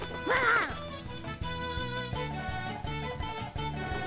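A duck in a visual novel game gives a loud, brief burst of quacking and wing-flapping at the start, followed by a rhythmic music track.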